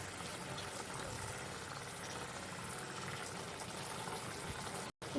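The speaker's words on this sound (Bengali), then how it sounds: "ঝোলটা ফুটে উঠেছে।" Gravy for chicken-stuffed potol dorma boiling in a pan, a steady close bubbling and hissing simmer that continues evenly without a break.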